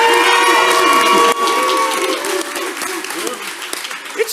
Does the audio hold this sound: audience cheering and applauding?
yes